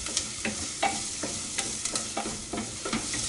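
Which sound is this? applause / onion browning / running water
onion browning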